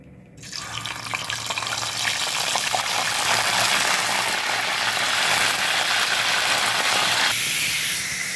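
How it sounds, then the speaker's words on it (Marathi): Green chillies soaked in curd frying in hot oil, a loud, steady sizzling hiss that swells after the first moments and continues without pause. "आता आपण या तोंडी लावण्यासाठी मिरची तळून घेणार आहोत."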